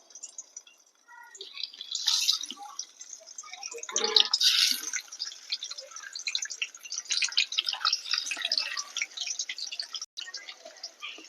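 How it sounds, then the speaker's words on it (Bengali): Eggs frying slowly in hot oil over a low flame for a Bengali egg mustard curry. The sound is a faint, scattered crackle and spit, with a few louder pops near the start. "তেল গরম হয়ে গেছে এবার আমি ডিমটাকে আস্তে আস্তে ভেজে নেব"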